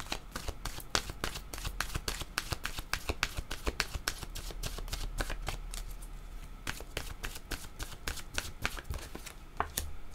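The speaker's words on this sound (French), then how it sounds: "je vais demander une carte de mon oracle de l'âme intuitive" A deck of oracle cards is shuffled by hand close up, a long run of quick crisp riffling flicks and slaps in steady rhythm, fairly quiet with no voices.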